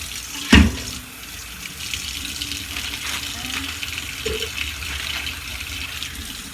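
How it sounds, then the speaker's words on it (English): A sharp knock, then a cold tap runs steadily into a bowl in a sink, a continuous close rush of water. "Run my water, cold water."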